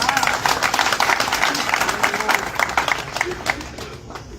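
A crowd claps at a political rally, a dense steady applause with voices mixed in, loud at first and thinning toward the end.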